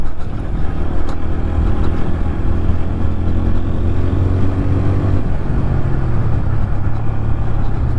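A TVS Apache RTR 160 4V motorcycle on the move, its engine a loud, steady low drone with a slight rise in pitch midway and continuous road and wind rumble, no voices.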